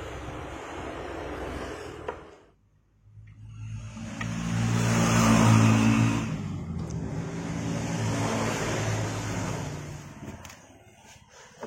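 A Honda Vario 125 FI scooter engine, which has a stutter and bogs when throttled, runs on a new spark plug. It is close and loud, with a brief dip before rising revs that then settle into a steady idle hum.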